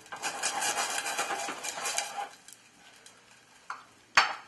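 Mushrooms cooking down in a pan give off a fairly loud, crackling sizzle for about two seconds, then fade to quieter spits, with a couple of sharp clinks near the end.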